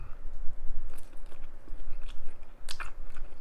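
Close, steady chewing of sausage eaten with beer, with soft crunches and smacking bites over a low background rumble.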